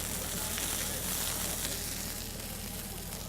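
Venison medallions sear in a hot pan, giving a steady, close, even sizzle that holds for the whole stretch without a break.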